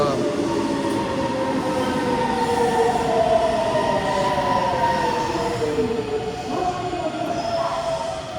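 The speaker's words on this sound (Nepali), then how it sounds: "local train" A Tokyo local train rolls along loudly with a continuous rumble and high, drawn-out wheel squeals rising and falling over it.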